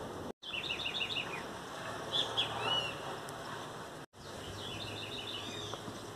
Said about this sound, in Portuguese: Não sei se vocês estão conseguindo ouvir os pássaros cantando.